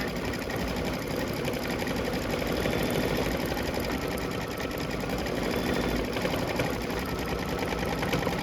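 An embroidery sewing machine stitches a gas pump placement line for a pickup truck quilt block, a steady, fast, continuous mechanical whir running evenly throughout at moderate level, with no voices.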